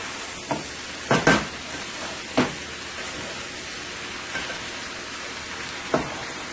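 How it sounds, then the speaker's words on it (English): Bora, salt fish, potatoes and tomatoes frying in a pan, a steady soft sizzle with a few sharp clinks and taps scattered through it, no talking. "I'm going to let this fry for an additional 2 to 3 minutes here."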